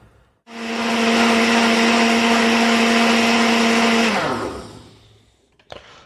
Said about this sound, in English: that blender is going to run for a bit longer than it just did in order to give it all a really good mix up, a chop up